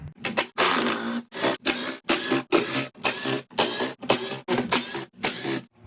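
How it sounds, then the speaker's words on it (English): An 8mm socket on a power driver backs bolts out of an EcoFlow Smart Generator: about a dozen short whirring bursts in quick, regular succession, close and loud, with no talk. "take that 8mm socket and remove all of these 8mm bolts"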